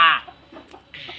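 Chickens clucking near a home in Bangladesh, with short bird calls at the start and end, in a brief, close clip without speech.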